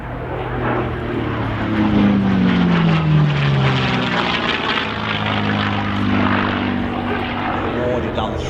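A military aircraft at the Scottish Airshow roars close past with a loud propeller and engine drone, its pitch sweeping downward as it passes, while a commentator talks over it throughout.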